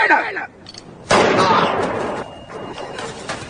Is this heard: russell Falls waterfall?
no